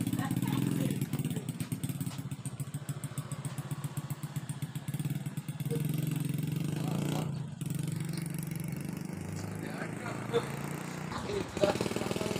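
A Honda Supra motorcycle engine runs on a test, with a steady mid-pitched putter and some revving, fairly close and continuous, while voices talk over it.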